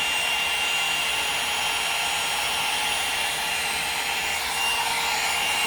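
A Conair 2-in-1 hot air hair dryer brush styler runs with a steady, loud airy whoosh and motor hum held close by, unchanging throughout with no talking.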